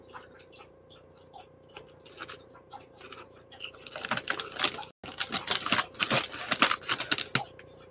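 A dog laps water from its bowl indoors: quiet at first, then a quick run of wet clicking laps that grows louder and denser over the last few seconds, with no one talking.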